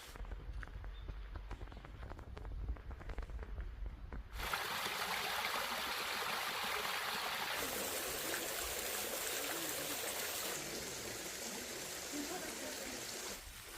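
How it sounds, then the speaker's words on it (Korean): A mountain valley stream beside a bamboo grove near a Korean hanok rushes in a steady, broad wash of flowing water, fuller after the first few seconds and continuous to the end. "앞에는 또 계곡 그 물이 흐르고 있고"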